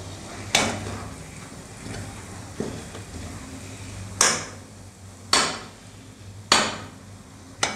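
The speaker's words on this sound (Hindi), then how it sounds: "इसको थोड़ा थोड़ा कड़छी से इस तरह से दबाएंगे हम, ताकि ये सारा मसाले के अंदर अच्छे से मिक्स हो जाए" A ladle presses and mixes smoky eggplant bharta in a pan, giving sharp metallic knocks and scrapes that repeat every second or so, close and distinct over a quiet cooking hiss.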